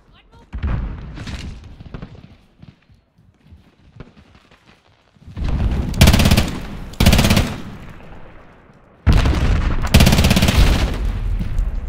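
Finn LMG light machine gun firing in Call of Duty Modern Warfare multiplayer: loud sustained automatic bursts, one long stretch then two more in quick succession, after quieter game ambience with scattered distant shots.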